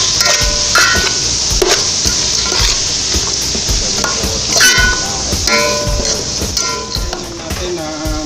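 Onion and carrots sautéing in a pan for shrimp pilaf, a loud close sizzle with frequent spatula scrapes and stirring knocks throughout.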